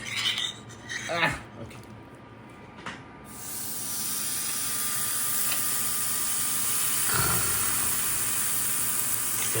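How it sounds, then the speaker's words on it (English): After a few clinks and clatters, a steady broadband hiss sets in and holds, wagyu beef sizzling on a hot grill, fairly quiet and continuous. "Sizzling."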